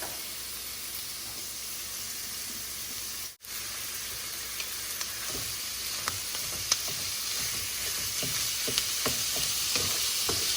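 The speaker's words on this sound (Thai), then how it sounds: "ผัดไปเรื่อยๆนะคะ ให้หมูเริ่มสุกนะคะ" Minced pork with onion stir-fried in a pan over low heat gives a steady, close sizzle with scattered scrapes and taps of stirring, and no talk.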